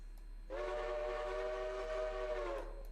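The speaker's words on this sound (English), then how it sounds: "Hey, that's actually a pretty good whistle pull." A locomotive whistle sounded from the cab of a Whittier & Southern locomotive, one steady harmonic blast of about two seconds that starts abruptly and cuts off cleanly, loud over a low idle rumble.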